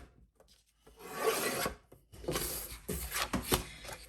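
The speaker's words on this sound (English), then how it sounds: "I'm going to cut my 12 by 12 sheet of cardstock into 4-inch strips." Paper trimmer blade slicing a 12x12 sheet of cardstock into 4-inch strips, giving dry rasping cuts in two or three close bursts, near and moderately loud with no voices.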